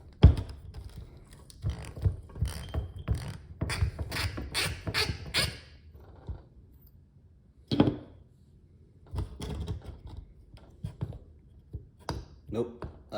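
A long 17 mm socket on a ratchet works loose a cooling system sensor on a Toyota MR2 Turbo SW20, giving close, rapid bursts of clicking and creaking in several uneven spells with short pauses between.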